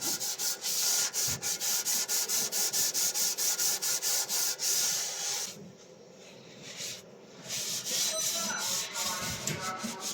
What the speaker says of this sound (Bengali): এখানে ওভেন পরিষ্কার করছি